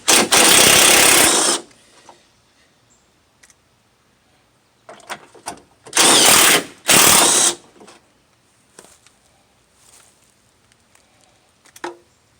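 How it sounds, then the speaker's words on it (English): A hand ratchet with a 10mm socket works on the headlight bolts of a Toyota Tundra, sounding in loud, close bursts of rapid clicking: one long run at the start and two more later, with quiet handling noises between. "I'm going to be using my 10mm socket"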